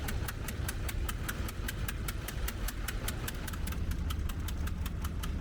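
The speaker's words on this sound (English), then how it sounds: "starts the engine during the ignition process" The engine of a sand pump on a river barge idles steadily throughout, with a fast, even mechanical knocking over a low rumble, fairly close and with no voices.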